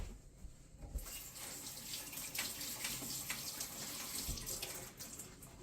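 Kitchen tap water runs in a steady stream while freshly picked strawberries are rinsed under it, a soft continuous splash with small shifts as the fruit moves in the flow.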